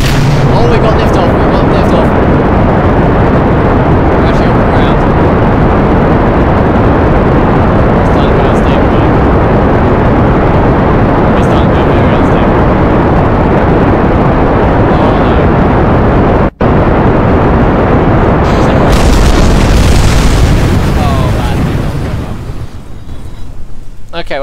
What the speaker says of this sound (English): Oh, we got liftoff!